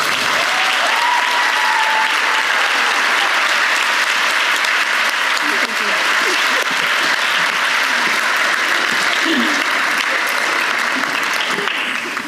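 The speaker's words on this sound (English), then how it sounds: "Let's give Liz another round of applause" Sustained, loud applause fills a university graduation hall for a nursing and anesthesia class, a dense wash of many hands clapping without a break, with faint cheering mixed in.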